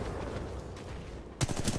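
R101 carbine gunfire in Titanfall 2 multiplayer: steady rapid shots under game noise, then a louder close burst of crisp reports near the end.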